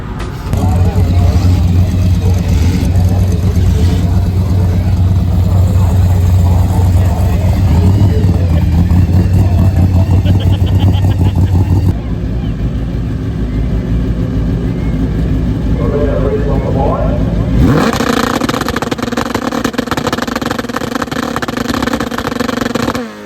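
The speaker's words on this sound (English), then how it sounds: "we raised the RPM on that last one to try and help the bike get started" A motorcycle engine revving hard at high RPM, loud and close, while trying to start and run the bike on a mountain road, with voices talking over it. The roar holds steady, then shifts in tone partway through.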